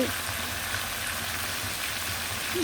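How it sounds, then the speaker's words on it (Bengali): Mutton being stir-fried with spices in a pan, a steady low sizzle and frying crackle running continuously at moderate level, with no one talking over it. "ভালোভাবে নেড়েচেড়ে মশলার সাথে মিশিয়ে দেখুন কীরকম মাখভাবে কষিয়ে নিচ্ছি"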